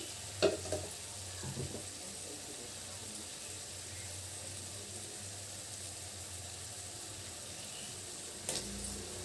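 Onion and red amaranth leaves frying in a pan give a faint, steady sizzle, broken by a few soft clinks and scrapes of stirring.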